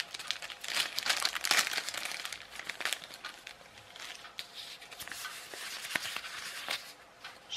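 Paper wrapped around a small electronic kit circuit board being crumpled and unfolded up close, irregular crackling and crinkling bursts that come and go without talk.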